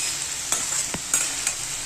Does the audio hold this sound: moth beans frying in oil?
yes